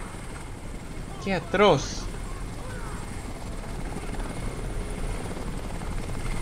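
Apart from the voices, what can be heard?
helicopter in video game Crysis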